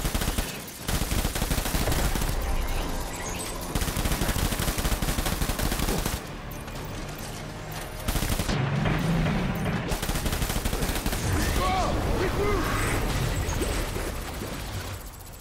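Dense bursts of automatic gunfire crackle through a battle scene in the video game Death Stranding, loud and rapid with a short lull midway before the shooting resumes.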